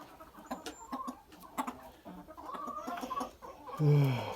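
Minorca hens on a small farm giving soft, scattered clucks and short calls, fairly quiet and close, ending in a louder drawn-out squawk.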